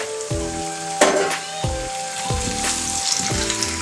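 Broiler chicken meat, about a kilo, frying with five potatoes in a pan over a medium gas flame, giving a steady close sizzle with crackling bursts and a few stirring clunks.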